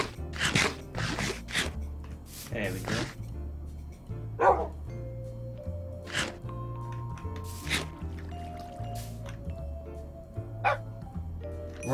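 Minecraft puppies giving repeated short, game-style yips and barks in an irregular series, loud and close, over steady background game music with no talk.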